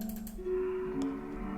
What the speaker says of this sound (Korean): 소 누르면 소리가 이렇게 들려요